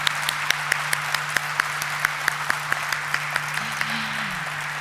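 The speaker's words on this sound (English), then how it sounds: "let's have a huge round of applause for the Diffusion Engineers Limited's whole team" Audience at a company stock-listing ceremony clapping steadily in a hall, a moderate wash of applause with a regular sharper clap standing out, over a constant low hum from the room's sound system.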